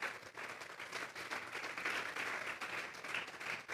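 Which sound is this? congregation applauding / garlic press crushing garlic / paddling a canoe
congregation applauding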